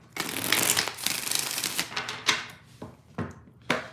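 Tarot cards are shuffled by hand in a final quick shuffle, a close run of riffling, flapping card sounds followed by a few separate taps and slaps.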